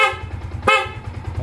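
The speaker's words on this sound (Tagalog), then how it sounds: "Busina." A short, loud Yamaha Sniper 150 motorcycle horn beeps twice in quick succession, the second blast louder, over a low idling engine.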